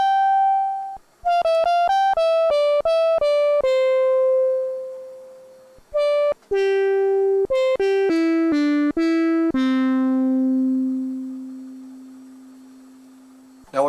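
A thin, simple synthesizer tone plays a melodic run of short and sustained notes spanning two octaves, clean and alone, ending on a long held low note.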